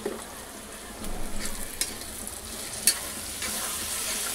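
Dal stirred and mixed in a frying pan, an even close sizzle with scraping spatula strokes and a few sharp clicks against the pan, no voices.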